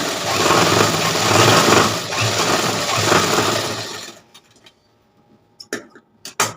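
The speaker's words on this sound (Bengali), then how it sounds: "দেখো এই যে সেলাইটা দিয়ে দিলাম" A sewing machine stitches a brocade blouse, running steadily and loud for about four seconds before stopping, followed by a few scattered handling clicks and taps.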